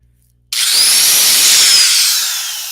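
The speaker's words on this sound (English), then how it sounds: "gonna drill a pilot hole here" A power drill bores a pilot hole in wood in a workshop, starting abruptly after a short silence with a loud, steady high-pitched whine and grinding that holds for about two seconds, then eases slightly.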